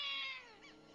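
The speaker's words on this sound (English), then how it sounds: "So the ascetic got himself a cat." A cat gives a single meow that slides downward, clear and close, lasting under a second with nothing else around it.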